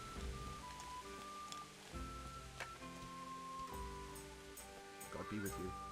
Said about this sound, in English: You've just been sitting in the rain all day.